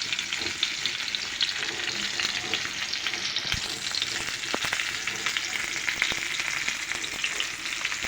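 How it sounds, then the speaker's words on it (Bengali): Fish fries crisp in hot oil with a steady, dense sizzle and crackle, close and continuous, with a few sharp clicks of utensils against the pan partway through and no voices. "দেখুন এভাবে আমি একটু কড়কড়া করে ভেজে ফ্রাই করছি"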